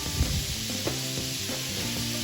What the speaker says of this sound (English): I'm just going to use my spatula on this to get those stirred and cook out some